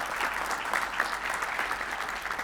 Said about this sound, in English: a big round of applause for a person who has